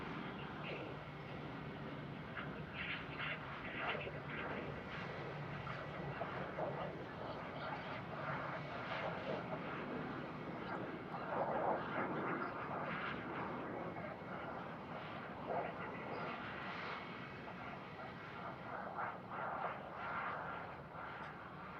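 A departing airliner bound for Paramaribo from Frankfurt Airport sends out a steady, broad roar that holds at constant loudness throughout, sounding fairly close with no talk over it.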